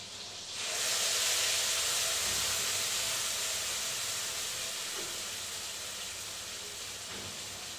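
Onion ground with tomato and coriander into a paste fries in oil as a steady, hissing sizzle that starts abruptly and holds evenly, slowly fading a little, close and with no voices.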